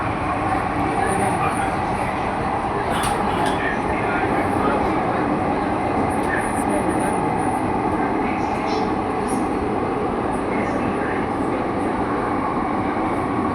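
A Mumbai metro train arrives at the platform, its loud, even roar filling the whole stretch without a break.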